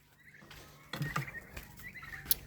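An adult turkey gobbles in a quick rattling burst, fairly close, in a farmyard with chickens, followed by softer bird calls and a faint chirp.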